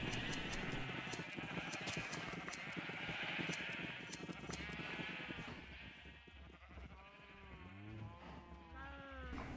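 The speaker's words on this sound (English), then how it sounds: "we have all the sheep in a single pen" Several sheep bleat repeatedly in a single pen in a survival video game, overlapping wavering calls coming in clusters, louder toward the end, over a steady game ambience.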